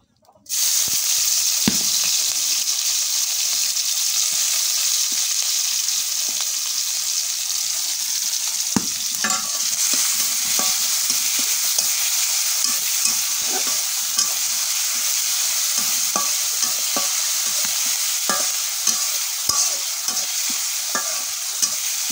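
Oil sizzling in a kadai on a stove before cooking fish, a loud, continuous close-up hiss with small crackles and occasional pops lasting throughout.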